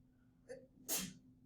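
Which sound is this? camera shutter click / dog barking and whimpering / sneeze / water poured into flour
sneeze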